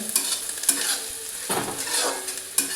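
Onions frying in a pan on the stove sizzle steadily while a spoon stirs and scrapes them, giving occasional louder clacks against the pan. The sound is close, with no talking.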